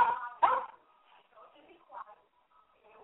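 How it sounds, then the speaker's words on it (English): Toy poodles yap a few times over a phone line, two quick barks up front followed by softer whimpers and yips, all thin and band-limited like a call-in radio line. "You're going to make your stupid little toy dogs bark to piss me off"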